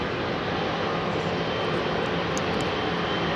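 Air France Airbus A220 taxiing at Heathrow Airport, a steady broadband jet-engine roar that stays constant and fairly close, with no voices over it.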